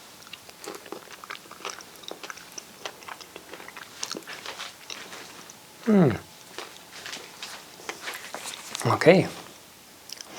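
Someone bites into a Peter's Honey fig with two soft crunching bites at about 6 and 9 seconds, close to the mic over faint room noise, and a voice speaks briefly.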